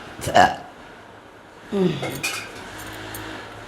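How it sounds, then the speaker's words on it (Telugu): A metal cooking pan clanks onto a lit stove for mutton keema, two distinct metallic knocks about a second and a half apart, with a quiet room between them. "ఇప్పుడు స్టవ్ వెలిగించుకొని వాండలు పెట్టుకోవాలి"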